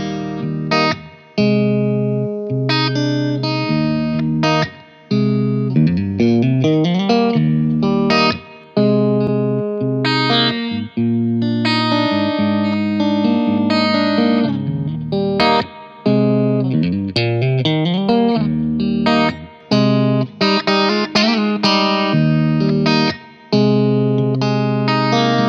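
Loud electric guitar phrases ring out through a Harley Benton Tube15 tube amplifier with reverb, notes and chords sustained with a lingering echo, played continuously with only short breaks.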